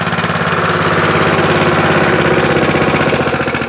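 A Honda small engine on a concrete paver job site runs loud and close after starting on the first pull, holding a steady, dense chugging drone with no talk over it.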